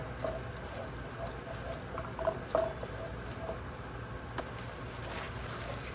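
Soft, continuous sizzling and crackling of tomato frying in a pan with green chilies, ginger, garlic and hing, with faint scattered pops and a low background hum.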